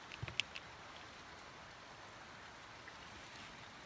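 Heavy rain falls in a forest while mushroom hunting, a steady, faint hiss of drops that continues throughout, with a few light knocks near the start.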